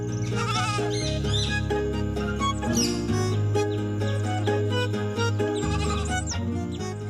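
Sheep and lambs bleat over a continuous layer of cartoon music, the calls blending into the steady, loud soundtrack with no speech.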